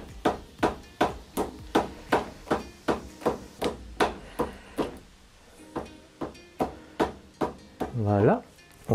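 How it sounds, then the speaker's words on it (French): A small plastic-faced dead blow hammer taps steadily on a motorcycle fork, about two sharp knocks per second, close and clear, with someone talking softly between strikes. "Je prends un petit marteau à rebond, donc avec du plastique dessus, et on va venir tapoter."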